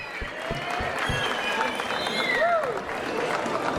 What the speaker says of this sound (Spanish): Fuerte aplauso para los dos